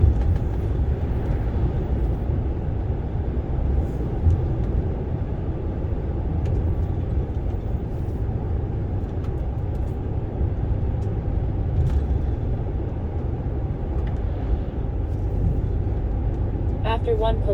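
A DAF XF truck drives along the road with a continuous low engine drone and road roar heard from the cab, steady and unbroken, with someone talking over it at times.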